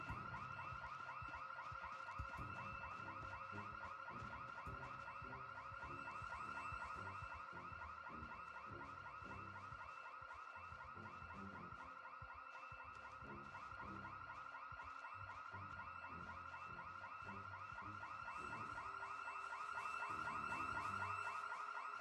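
Several car and house alarms in the Project Zomboid video game blare together for the whole stretch, steady warbling electronic tones layered with rapid pulsing chirps, loud and continuous with no talking.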